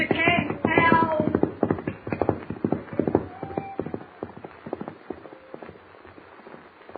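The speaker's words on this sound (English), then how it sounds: "the wild, unbroken horse gallops into the darkness" Hooves of a wild unbroken horse gallop away in a radio drama effect, rapid clip-clopping beats that start loud and close, then fade as they recede.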